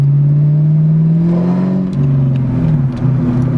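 Ford Mustang GT engine heard from inside as the car pulls up to a car wash, a loud close rumble that rises with a short rev then settles back, with light clatter toward the end.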